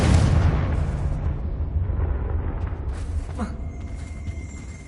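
A Confringo blasting spell goes off in a Harry Potter video game: a loud booming explosion that hits at once and rolls off into a long rumbling decay, with a sharper crackle near the end as it fades.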